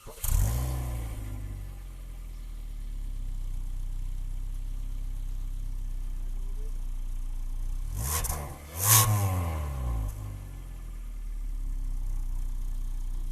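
A 2019 Kia Sorento engine idles steadily and loudly, recorded up close at the exhaust, with a brief blip of revving partway through before settling back to a low rumble.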